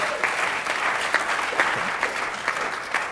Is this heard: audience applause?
yes